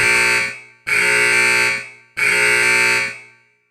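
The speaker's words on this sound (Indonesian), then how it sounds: "alarm berbunyi" An alarm in the video game Honkai Gakuen rings three times, each a loud, harsh buzzing tone about a second long with brief gaps between, alone without talk.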